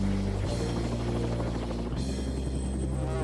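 Loud, continuous helicopter rotor drone with a deep throbbing hum and a rushing whine, steady throughout and close by.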